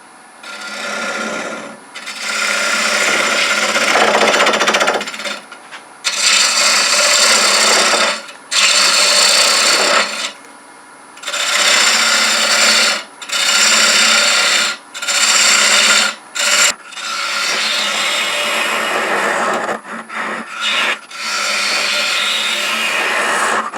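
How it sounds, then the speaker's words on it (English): A bowl gouge with a long handle and blunt grind hollows a wooden jewelry box on a lathe, giving loud, steady rasping cuts in repeated passes of a few seconds each, broken by short pauses, with no talking. "I switched to my bottom feeder bowl gouge with a fairly long handle and a fairly blunt grind"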